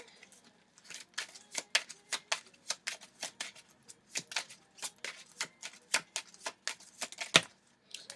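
Tarot cards are shuffled in a steady rhythm of crisp, close riffling bursts, one after another, with no voices over them.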